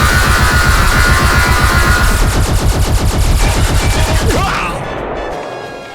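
Rapid automatic gunfire from a Transformers stop-motion battle scene, a dense loud barrage of repeated shots that rattles continuously before cutting off into a fading crash and whoosh near the end.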